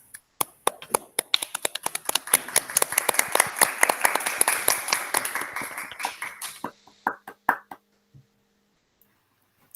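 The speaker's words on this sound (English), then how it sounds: "let's give them a round of applause" A welcome-ceremony audience applauds, starting with a few separate claps that swell into a brisk, crisp round of clapping, then taper off into scattered final claps and silence.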